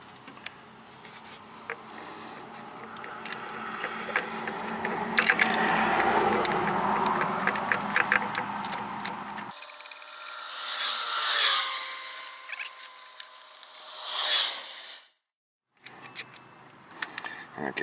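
Metal bolts clink and rattle in hand while a water pump is fitted to a 2003 Toyota Corolla, light jangling taps scattered through the first half, then a quieter stretch of faint clicks ending in a brief dropout.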